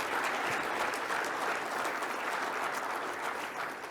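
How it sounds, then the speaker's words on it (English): A room full of people applauds awardees at an agriculture event, clapping in a thick, even, sustained wash of many hands with no letup across the span. "let's give them a round of applause."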